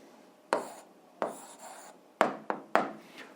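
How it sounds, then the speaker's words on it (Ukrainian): An answer being written down by hand: five short, scratchy bursts of pen strokes with brief pauses between them, close and fairly quiet, with no talking. "а зараз записуємо відповідь, пишемо відповідь"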